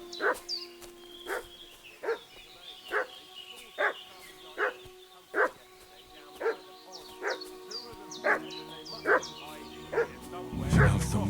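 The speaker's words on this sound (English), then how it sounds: "What's that dog making such a fuss about?" A dog in the medieval Bohemian world of Kingdom Come Deliverance 2 barks repeatedly at a steady rhythm, about a dozen sharp, fairly close barks, with a few fussing whimpers, over quiet ambience and a louder rustle at the end.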